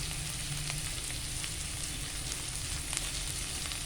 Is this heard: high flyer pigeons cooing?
no